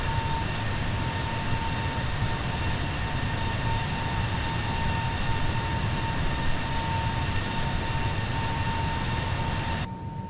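Simulated Airbus A320neo jet engines during a climb in a flight simulator game, a steady loud roar with a constant whine, continuous throughout and easing off slightly at the very end.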